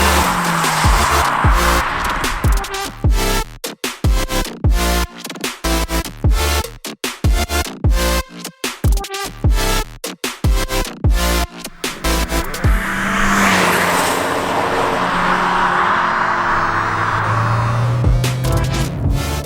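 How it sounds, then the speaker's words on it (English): Fiat 124 Spider Abarth from 2019, its engine rising and falling through hard revs with bursts of tire squeal and skidding, loud and close, broken by sharp pauses and shifts, then settling into a steadier drone. "today we're driving the Fiat 124 Spider Abarth"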